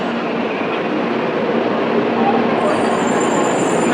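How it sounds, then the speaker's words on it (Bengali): A Japanese bullet train near Hiroshima on Honshu runs along after leaving the platform, a steady loud rushing roar heard from inside the coach that builds gradually, with a thin high whine joining toward the end. "ট্রেন প্ল্যাটফর্ম ছেড়েছে, এবার কতটা স্পিড সেটা চললে বোঝা যাবে"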